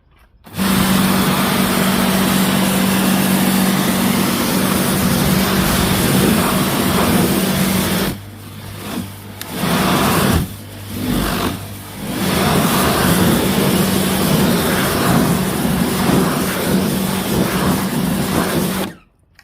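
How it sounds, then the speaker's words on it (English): A P70 pressure washer rinses a car tyre and alloy wheel with a loud, steady hiss and motor drone, which briefly drops away twice in the middle before resuming until the spray stops. "So I've got my other P70 pressure washer, so I'm going to use that to rinse the actual tyre off and the alloy itself."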